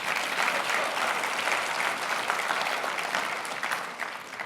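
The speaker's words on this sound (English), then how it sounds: "Give yourself a round of applause for your stock going up." Steady applause from an audience at a motivational business talk, dense and sustained throughout without breaks.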